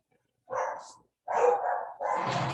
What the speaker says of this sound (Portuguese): Toda vez que a gente começa a reunião aqui, os cachorros começam a latir.